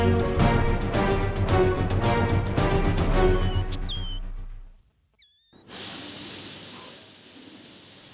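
Music plays, fades into a brief silence, then a kitchen pressure cooker whistle lets out a loud, sustained hiss of steam nearby.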